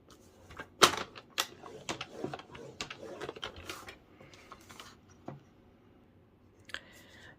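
Cardstock gets scored on a scoring board in a run of sharp clicks, taps and scraping strokes, close and fairly quiet, with pauses between the bursts.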